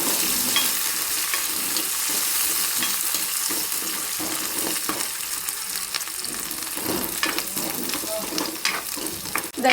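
Curry leaves sautéing in hot oil in a pan for rasam, a steady close crackling sizzle with stirring scrapes running throughout, no talk.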